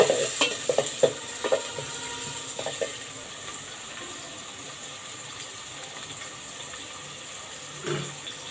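Onions fry in a pan and are stirred, with soft, steady sizzling under a few clinks and scrapes of the spoon, busiest at the start and again near the end.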